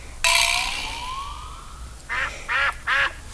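A long ringing tone fades, then three short nasal quacks follow in quick succession, close and clear.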